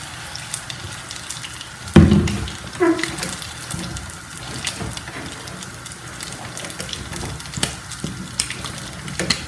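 A wooden stick stirs ugali in a pot for a Kenyan dinner, giving steady scraping and sloshing with a heavier thump near the start, close and fairly loud with no talk.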